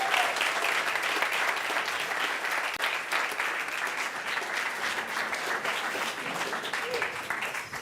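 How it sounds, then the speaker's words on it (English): An audience at a product launch livestream applauds steadily as the company's CEO and VP of Product come on stage, a dense, even wash of clapping that holds at full strength for the whole stretch with no talk over it. "So if you could give a big round of applause to Zeb, who is the CEO, and Alon, who is the VP of Product, on stage"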